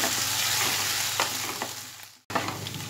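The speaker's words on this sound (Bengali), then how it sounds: "আদা কুচি আর হাফ টেবিল স্পুন রসুন কুচি দিয়ে আমি আবার মশলাটা ফ্রাই করে নেব" Spice masala with chopped ginger and garlic fries in hot oil for dal fry, a close, steady sizzle broken by a few stirring scrapes and a brief cut near the end.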